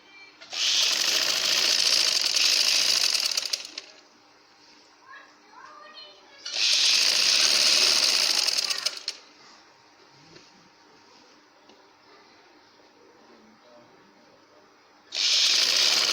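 An electric sewing machine running up the edge of dhoti shalwar fabric in three loud sustained bursts, with quiet pauses between in which someone speaks softly.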